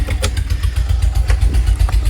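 The engine of a Force Urbania caravan idles loudly and close by on a test drive, with a steady low throbbing and clattery pulses.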